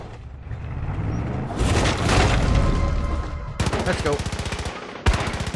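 A vehicle-mounted main gun fires in Far Cry 5, with loud, rapid, evenly spaced shots in two sustained bursts over a rumbling engine and combat noise, while a player speaks briefly.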